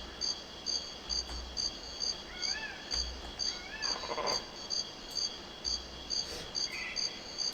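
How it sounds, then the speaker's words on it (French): In the jungle of the N64 video game GoldenEye 007, faint, warbling goat-like bleats call out a few times over a constant chorus of chirping crickets and insects, with a low rhythmic pulsing beneath. "Il y a des genres de bruits de chèvres dans la jungle"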